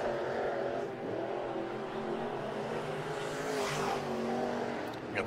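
Sport mod race cars turn hot qualifying laps on a dirt oval at Atomic Speedway, engines droning and rising steadily at a distance, with a passing swell of revs.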